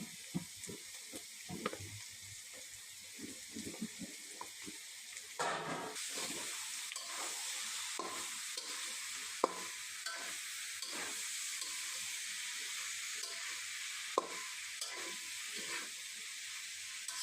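Mixed vegetables, some parboiled, frying in a pan as they are stirred wedding-style, with a steady broad sizzle and repeated scraping spoon strokes; no one speaks.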